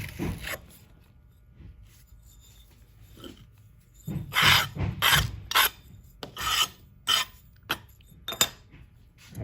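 Sand scraped off a metal casting flask in bursts of rough rasping strokes, quiet at first and then a rapid series of louder scrapes close by, with no talking.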